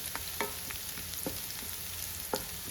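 Ginger and garlic frying in hot oil for Kerala-style snacks, giving a steady close sizzle with a few sharp crackles and spatters scattered through, no voices.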